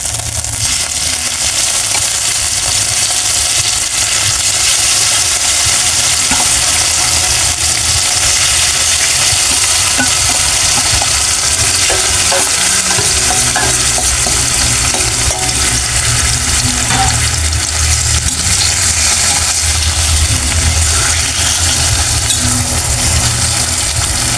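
Oyster-sauce-marinated pork belly (liempo) with garlic, onion, bay leaf and pepper frying in a pan, giving a steady, dense sizzle that runs loud and continuous with no talking.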